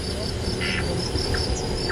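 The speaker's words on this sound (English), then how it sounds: "All set against a chorus of crickets." Crickets chirp steadily in a faint, continuous chorus, with a few brief higher chirps over a soft background hiss.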